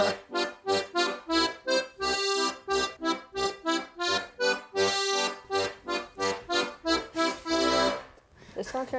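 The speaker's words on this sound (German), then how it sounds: "Das ist meine Diatonische." A diatonic accordion plays a short, lively piece in quick rhythmic bursts of chords and melody, close and clear throughout, ending with a brief held note.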